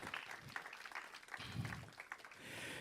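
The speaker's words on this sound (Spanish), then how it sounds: "Dale un aplauso de gratitud al Señor." A church congregation claps together in gratitude to the Lord, a steady, moderately loud patter of many hands filling the short stretch, with no voices over it.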